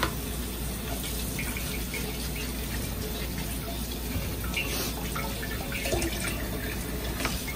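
Hot water runs steadily from a kitchen tap while groceries are washed under it, a continuous close splashing wash with faint clinks, no speech over it.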